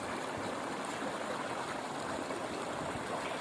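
A steady, full rush of a river flowing over smooth, slippery stones in the hills of Uttarakhand, a close and continuous roar of churning water with no voices.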